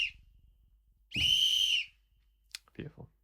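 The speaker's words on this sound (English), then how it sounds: "There you go, lo-fi whistles." A lo-fi whistle sample from the Spitfire Labs plugin plays one sustained bright whistled note lasting under a second. Faint drum-like ticks come before it and short soft hits follow.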